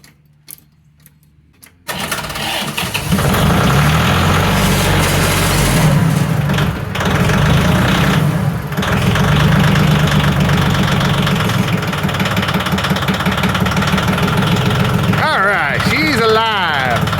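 A John Deere MT tractor's Yanmar diesel engine, unused for a couple of months, cold starts after a short quiet moment and then settles into a loud, steady close-up idle, with a person briefly talking over it.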